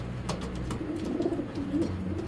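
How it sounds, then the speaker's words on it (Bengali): A pair of racing pigeons from the same loft coo softly and close by, their low throaty calls repeating in short rolling bursts over a quiet background. "এটা দুটা একই ঘরের কবুতর"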